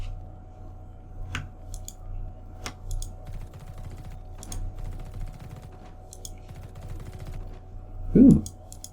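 Gunfire from The Red Solstice video game as ammo boxes are shot, with a handful of sharp, separate cracks spread across a low, steady game backdrop and a louder burst near the end.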